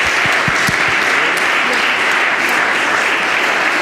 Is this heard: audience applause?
yes